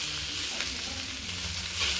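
Hot soya bean roast being stirred in a pan, giving a continuous close sizzle with faint scraping and stirring noises throughout.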